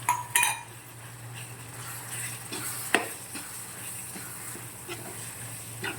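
A spoon stirs chili powder, turmeric and sambar powder into a pan for sundakkai kuzhambu, with a soft ongoing sizzle, a few metallic clinks against the pan and occasional scraping, close and without voices.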